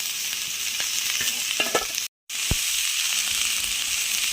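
Capsicum fries in a pan for pasta, giving a steady bright sizzle with occasional stirring clicks and a brief cut to silence midway, heard alone without voices.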